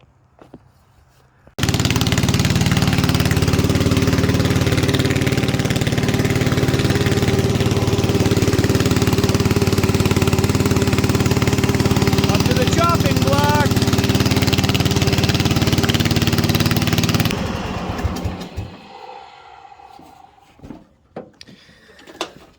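Kawasaki engine on a John Deere halftrack fires up and runs steadily at a loud, even idle nearby for about fifteen seconds, then shuts off, leaving scattered clunks and small handling noises.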